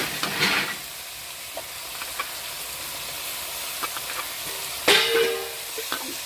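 Cleaned squid fries in a pan with a soft, steady sizzle and hiss, and occasional scraping stirs and clanks of a utensil against the pan, fairly quiet and close.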